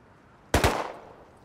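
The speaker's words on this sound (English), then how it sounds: "He's shooting at you." A short burst of gunfire in a raid video game, two quick close shots merging into one loud crack that fades in a brief tail.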